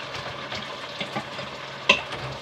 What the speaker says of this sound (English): Now it's just pretty much letting the onions and everything cook with the meat.